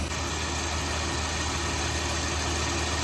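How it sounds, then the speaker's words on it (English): A Dodge Ram 1500 truck engine idles with a steady, even rumble and hum, close and continuous, with no obvious stumbling or shaking. "The truck sound good, the motor not shaking."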